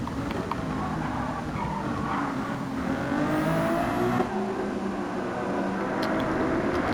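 A Ferrari race car engine roars in a racing video game, holding a steady high drone with a rising pitch sweep midway, close and continuous with no talk over it.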